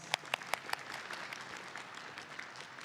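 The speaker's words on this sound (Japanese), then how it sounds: "皆様もう一度全員の方に大きな拍手をお願いいたします。" An audience at a live game showcase on the Tokyo Game Show 2023 main stage claps, several loud distinct claps up front settling into steady scattered applause from the crowd.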